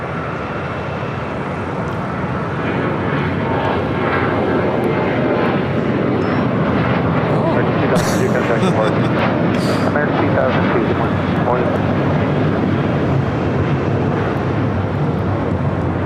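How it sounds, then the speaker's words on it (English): American Airlines Boeing 737-800 taking off from runway 25 Right at LAX: a loud, continuous jet engine roar that holds steady throughout. "This is American Airlines 2002 taking off to Las Vegas on a 737-800."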